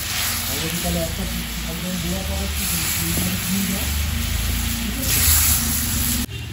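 Water splashes into a pan of sizzling fried spice masala with boiled potatoes for an egg curry, a steady loud hiss and bubbling that swells near the end, with faint talk underneath.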